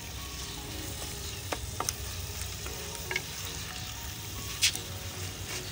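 Whole spices frying in a pan with two large tomatoes just added, a steady soft sizzle throughout with a few faint scraping ticks and one brief sharper spatter near the end, no talking.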